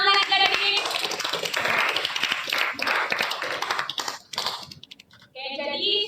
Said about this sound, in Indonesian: Oke, tepuk tangan adik-adik.